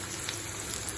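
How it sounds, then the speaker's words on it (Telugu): Chicken pieces frying in hot oil, a steady crackling sizzle, close and continuous throughout the brief moment. "ఇలా మీడియంగా వేగితే సరిపోతుంది ఫ్రై చేసుకుని"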